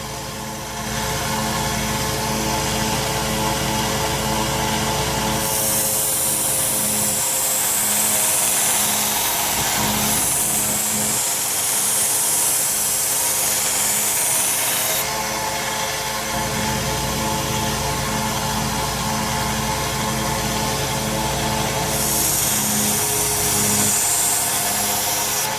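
A knife blade is being sharpened on a 1x30 belt sander. The sander makes a steady loud grinding whir, and the blade pressing on the belt adds a harsh rasping that rises and falls over several long passes. No one speaks.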